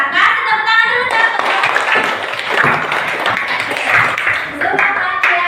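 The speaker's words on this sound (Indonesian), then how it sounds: "Kasih tepuk tangan dulu dong" Classroom applause from students during an Islamic studies lesson, a steady dense patter of clapping filling the room with voices and chatter mixed in throughout.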